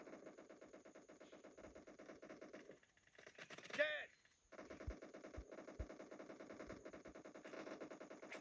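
Rapid machine-gun fire from PUBG Mobile during a team deathmatch, a dense, steady rattle of shots throughout, briefly dropping out midway before resuming, with a voice speaking over it.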